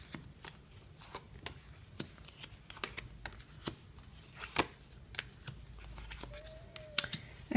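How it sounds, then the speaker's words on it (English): Tarot cards riffle and snap down one after another at close range in a quiet room, a steady run of sharp papery clicks and slaps with a brief faint tone near the end and no talk. "Let's lay out some cards here."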